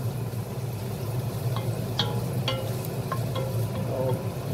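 Chopped onion sizzling in melted butter in a pot, a steady soft frying hiss with a few faint clicks of stirring, close and continuous with no voices.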